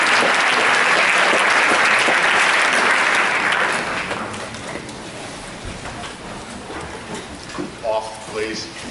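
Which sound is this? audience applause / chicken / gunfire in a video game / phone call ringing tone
audience applause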